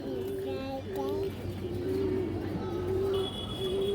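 Pigeons of racing and high-flying breeds, old birds in a loft, coo in steady repeated phrases close by, with a low murmuring throb beneath and a few higher chirps.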